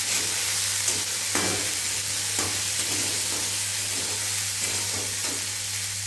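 Ingredients lightly roasting in a pan for a toddler's meal, a dense steady sizzle with a low hum beneath and occasional soft scrapes of stirring, close and constant throughout.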